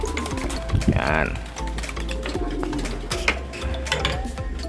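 Racing pigeons on a roof give soft, low cooing calls, mixed with clicking and tapping noises. A person talks over much of it.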